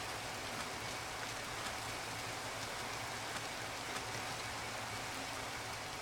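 Steady rain in the video game Minecraft, a constant even hiss of falling drops that fills the whole stretch without pause, fairly soft and with no talk over it.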